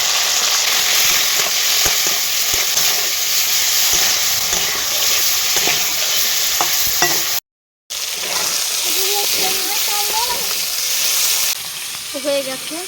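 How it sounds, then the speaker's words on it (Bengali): Chicken pieces fry in a pan of oil with salt, turmeric and chili powder, sizzling loudly and continuously, with a brief gap of silence midway. "এবারে তেলে দিয়ে দেবো চিকেন"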